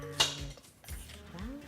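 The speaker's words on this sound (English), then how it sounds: "I'll stir that in, do it for the rest of the peach." A utensil stirs peach slices into gluten-free peach cinnamon sugar muffin batter in a bowl, with a sharp clink followed by soft, irregular scraping and folding sounds close up.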